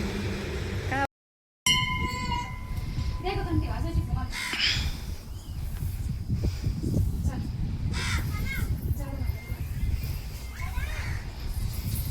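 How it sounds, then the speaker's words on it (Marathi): A flock of crows caws repeatedly at close to moderate distance, with children's voices and adult talk continuing underneath. "भरपूर कावळे आले"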